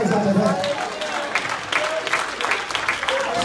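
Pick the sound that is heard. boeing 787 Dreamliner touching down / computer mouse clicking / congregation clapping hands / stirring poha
congregation clapping hands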